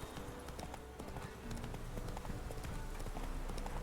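Galloping horse hooves in The Witcher 3 video game, a steady rapid clip-clop rhythm running throughout at close range over a continuous game soundscape.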